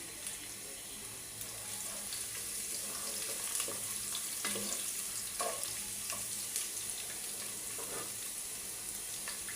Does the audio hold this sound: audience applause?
no